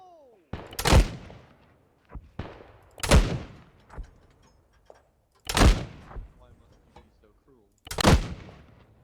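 Four heavy gunshots in ARMA 3 ring out about two seconds apart, each a sharp, loud crack with a short decaying tail, while voices talk between them.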